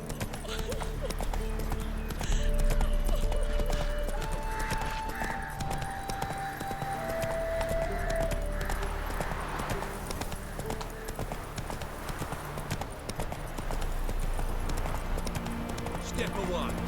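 Horse hooves clip-clop steadily in The Witcher 3 as a mount rides along, a continuous rhythmic patter with in-game voices and ambience layered over it.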